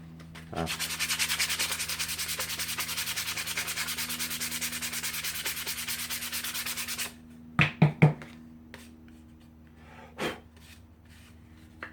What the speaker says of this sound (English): Quick sand just to clean up that hole there, clean up the edges, then we can get it stained.